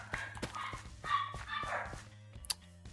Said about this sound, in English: There are some dogs barking.